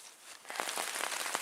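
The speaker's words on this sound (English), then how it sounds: "It's now starting to rain hard" Hard rain falling at night on a backpacking hammock camp at Pictured Rocks, Michigan, in December: a steady patter of drops with a few louder taps, close by and moderately loud, with no voices.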